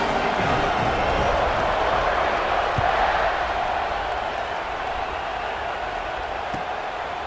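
Steady, dense roar of a stadium crowd at a college football video game, Colorado vs Auburn, swelling slightly before easing, loud and continuous with no clear single voices.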